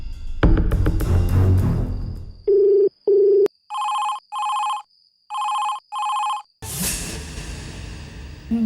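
A telephone rings during a call in a Kannada TV serial scene, first with short two-tone bursts and then with pairs of bright electronic trills separated by pauses, followed by rising noise and no talk.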